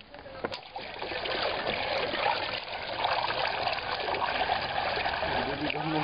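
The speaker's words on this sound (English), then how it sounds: "the water goes through the screen and leaves the pulp evenly distributed around the frame" Water drains through a lokta paper-making screen as the frame is lifted from a tub of pulp in a Kathmandu workshop, a continuous close trickling and gushing with a sharp knock near the start.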